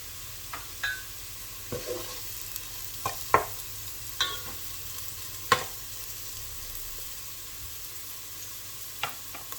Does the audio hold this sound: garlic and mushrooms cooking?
yes